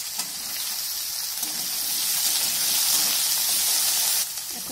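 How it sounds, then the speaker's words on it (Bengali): Diced potatoes and carrots fry in hot oil, a steady bright sizzle and hiss that swells slightly midway and drops off just before the end. "প্রথমে কেটে রাখা আলু আর গাজরটাকে ভেজে"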